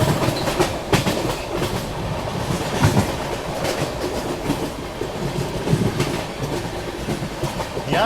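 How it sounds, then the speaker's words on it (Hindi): Train wheels roll over railway track beneath a moving Bihar Sampark Kranti Express, giving a loud, continuous rumble with steady clickety-clack beats throughout, close and alone without talk. "यहाँ ट्रैक साउंड बहुत अच्छा आता है।"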